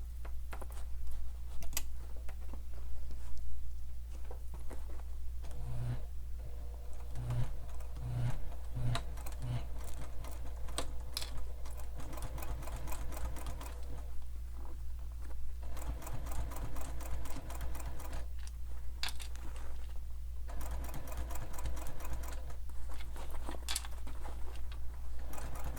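Sewing machine stitching binding down all the way around a sling pack, a close, continuous rapid mechanical chatter with a few brief pauses.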